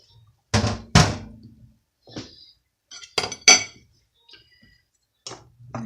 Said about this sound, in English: Now we are going to add the beans to this.